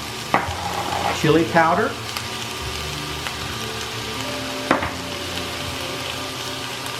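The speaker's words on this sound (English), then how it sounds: "And now I'm going to just mix it up and saute" Onions, peppers and garlic sautéing in a pan for Texas hash, a steady sizzle with stirring clatter and a couple of sharp utensil knocks, plus a brief spoken remark early on.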